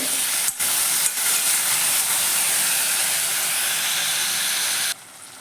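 Tomatoes with a little salt cooking in a pan give a steady, loud broadband hiss and sizzle that holds nearly unbroken for about five seconds, then drops away abruptly near the end, with no talking.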